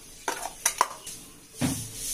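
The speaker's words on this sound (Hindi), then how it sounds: "अब इसको मिक्स कर लेना है।" Grated beetroot being stirred into paratha flour in a bowl, giving a few soft scraping and clinking strokes at close range with quiet pauses between, no voices.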